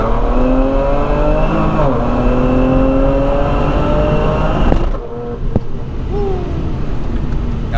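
A 500 hp Kia Stinger in sport mode accelerates hard, its engine note climbing steadily through the gears with a brief dip at each quick shift, loud and close throughout before easing off near the end.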